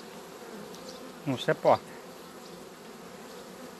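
Honey bees at an open hive give off a steady, low, droning buzz throughout, with a brief burst of speech rising above it partway through.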